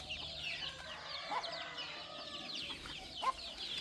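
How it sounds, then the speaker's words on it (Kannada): A native country hen in a farm garden clucks steadily to her chicks, with high, busy peeping from the chicks throughout and a few louder clucks standing out near the end. "ಆ ತಾಯಿ ಕರೆದ ತಕ್ಷಣ ಓಡ್ ಬಂದುಬಿಡ್ತವೆ ಮರಿಗಳು ಒಳಗಡೆ ಹೋಗಿದ್ರು ಕೂಡ."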